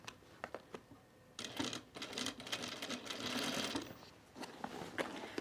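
A sewing machine stitches a bag's hem facing in rapid mechanical bursts, starting and stopping with short pauses, close and clear over a quiet room.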